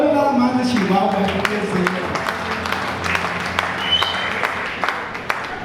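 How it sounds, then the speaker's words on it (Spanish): A church congregation applauds people from Chihuahua, scattered clapping that swells then thins out as a voice speaks over the start. "Un aplauso, todo nada más de Chihuahua."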